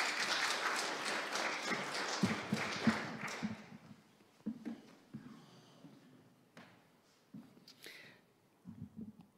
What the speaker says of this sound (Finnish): Annetaan Shinollekin aplodit